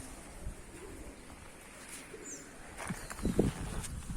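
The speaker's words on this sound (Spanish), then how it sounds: "acá las palomas están ahí arriba." Pigeons coo overhead at an abandoned old house in 7 de Abril, Burruyacú, Tucumán, Argentina: soft, low, repeated coos over a quiet outdoor hush, growing a little louder and denser toward the end, with a faint chirp.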